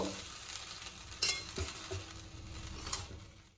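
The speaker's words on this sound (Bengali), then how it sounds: "একবার নাড়িয়ে দেব" Egg fried rice stirred in a kadai, a soft continuous sizzle under a few sharp scraping clinks of the spoon against the pan, close and fairly quiet.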